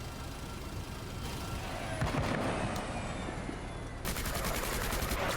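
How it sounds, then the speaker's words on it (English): Vehicle-mounted machine gun in the game Menace rattles out bursts of rapid fire over a busy battle backdrop, with a tighter, louder stream of shots kicking in for the final second or so. "Then you can start shooting them with your machine gun"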